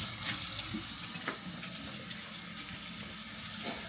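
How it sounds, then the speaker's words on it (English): Hot water runs steadily from a tap into a kitchen sink in an apartment after a clogged drain was cleared, a continuous close hiss and splash with no talk. "let the hot water run for 10-15 minutes, as long as you can."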